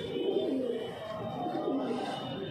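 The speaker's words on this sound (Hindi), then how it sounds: "ये है टाइडी कबूतर" Teddy pigeons cooing steadily close by, a low soft repeated warble running throughout with no talk over it.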